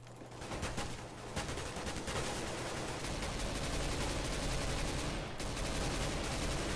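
Sustained, dense automatic gunfire in CS:GO, continuous and loud for several seconds with a brief lull near the end before the shooting resumes.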